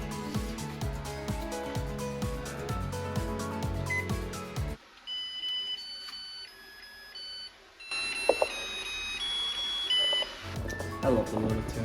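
A rice cooker plays its little electronic tune, a string of thin high beeping notes heard close and fairly clear, following a stretch of background music and with a faint bit of sound from the room underneath.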